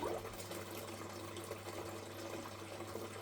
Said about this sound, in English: I'm just going to rinse out this pan now